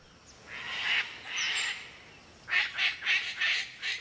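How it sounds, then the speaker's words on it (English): A rare Australian rainforest bird calls with harsh squawks: two drawn-out raspy notes, a pause, then a rapid series of five shorter squawks, clear and fairly close. "Little was known of this mysterious bird until Steve Murphy began his study."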